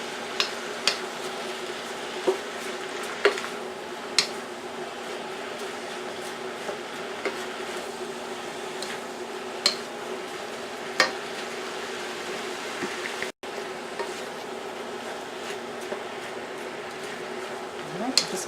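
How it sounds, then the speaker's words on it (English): Steady low sizzle with scattered clicks and scrapes of a utensil against a pan, continuous stir-frying of ramen noodles with shrimp at close range with no talking. "just going to keep stir frying here"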